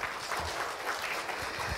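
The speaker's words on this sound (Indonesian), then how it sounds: "Kita beri tepuk tangan boleh?" An audience at a healthcare conference with ASEAN guests gives a steady burst of clapping, dense and even throughout with no pauses.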